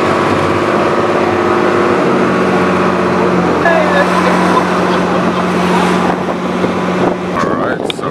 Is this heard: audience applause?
no